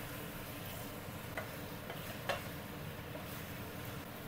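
Chicken and offal stir-frying in a pan for a northern Thai coconut-shoot chicken curry, a steady close sizzle with occasional clinks of the utensil against the pan, no talk.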